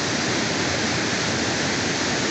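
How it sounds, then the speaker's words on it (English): Roaring waterfall on a river near a village, a steady, dense rush of falling water close by and loud, with no voices over it. "But we're enjoying this amazing waterfall"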